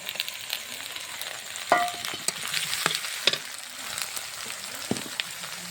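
Spice paste for Bengali chicken curry, with crushed garlic, ground ginger, cumin paste, green chilli, turmeric and salt, sizzles steadily in a pan as a spoon stirs it, with occasional scraping clicks and no talking.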